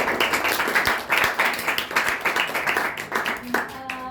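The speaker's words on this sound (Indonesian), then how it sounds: "Boleh tepuk tangannya sekali lagi" Students in a classroom clap for a group after its discussion presentation, a lively burst of uneven hand claps that swells and then tapers off, with a voice briefly heard near the end.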